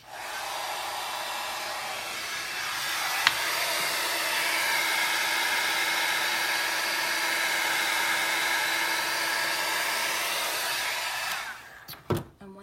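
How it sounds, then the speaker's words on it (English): A heat tool blows steadily to dry Distress Oxide ink on a stamped tree card, a loud continuous whooshing hum with one brief click near the start, running alone for about eleven seconds before cutting off with a few handling knocks. "I'm gonna hit it with my heat tool."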